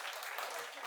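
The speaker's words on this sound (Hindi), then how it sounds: "एक बार जोरदार तालियां" Audience applause at a Hindi poetry and news stage event, a dense, steady burst of many hands clapping, loud and close, lasting about a second with no voices over it.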